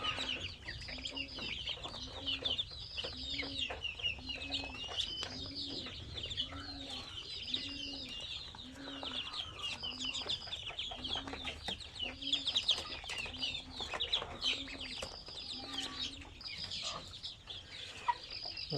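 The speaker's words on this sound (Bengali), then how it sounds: "টাইগার মুরগিগুলা খাবার দাবার করে সুন্দর মতো বিশ্রাম করতেছে।" Tiger hens on a farm cluck steadily while eating, a regular run of short clucks repeating roughly every second against a busy background of other bird calls and farmyard noise.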